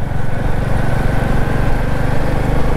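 An old, smoke-belching scooter engine runs on a road with a steady, low, throbbing rumble that stays close and loud throughout.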